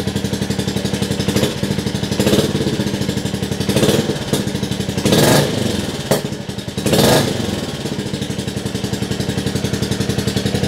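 A vintage Royal Enfield Classic 350 single-cylinder motorcycle runs indoors. Its loud, steady thumping beat fills the room and rises in a few short bursts of throttle.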